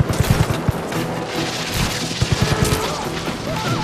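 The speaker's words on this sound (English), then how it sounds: "Oh, it's a grenade launcher." Rapid, loud grenade launcher blasts and gunfire crash in quick succession in the video game Just Cause 3, a dense barrage of booms layered over constant rumbling action with no voices.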